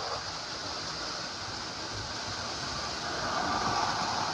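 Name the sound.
toy electric train running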